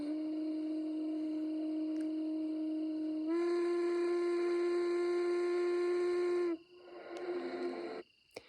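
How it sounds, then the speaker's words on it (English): A steamboat's whistle, heard from a steamboat working on the water, blows a long steady tone that swells into a richer, louder chord, then cuts off, leaving brief water and mechanical noise. "That was the sound of a steamboat plying its trade on the water,"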